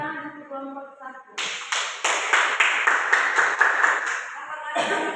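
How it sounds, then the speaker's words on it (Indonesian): A classroom audience applauds after a student group finishes its presentation in a university curriculum course, a dense stretch of clapping that starts after a spoken line and runs for several seconds before fading. "tepuk tangan untuk kelompok 1"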